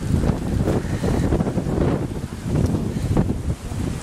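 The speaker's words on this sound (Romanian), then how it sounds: "De peste tot vine vântul" Strong wind gusting across an outdoor playground during a storm, a loud continuous roar with buffeting and rumbling gusts that swell and ease throughout, no talking.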